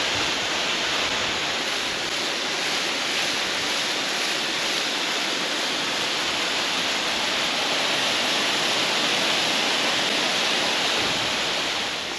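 Grass on a caravan pitch being watered, a loud, steady broadband rush of spraying water, constant and close throughout with no talking.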